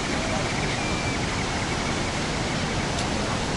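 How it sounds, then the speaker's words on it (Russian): Small waterfall at Manavgat in Turkey, a constant broadband rush of falling water filling the whole clip evenly, close and steady, without other distinct sounds. "Водопад здесь небольшой."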